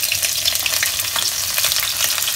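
Ginger, garlic and chilli sizzling loudly in hot oil in a pan for chilli paneer, a dense, steady hiss with light crackle and occasional stirring, close and continuous without any talk.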